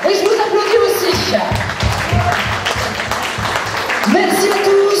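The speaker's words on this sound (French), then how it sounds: "Voilà, et je vous applaudis aussi" An audience at a Lions Club charity dinner claps in a dense burst of applause lasting a few seconds, with a voice speaking before and after it.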